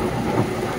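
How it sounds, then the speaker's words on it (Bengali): Heavy rain pours down outside during a storm, a dense, steady roar of falling water, loud and close, with no voices. "আর এত পরিমাণে বৃষ্টি হচ্ছে"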